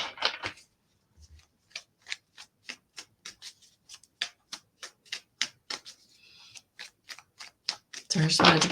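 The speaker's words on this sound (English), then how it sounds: "I just wanted to give those a little bit of shuffle before we got to them." Tarot card piles being shuffled by hand, a quick run of crisp evenly spaced card slaps close up, with a short pause before a louder rustle at the end.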